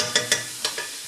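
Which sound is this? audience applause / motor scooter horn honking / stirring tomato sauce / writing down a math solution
stirring tomato sauce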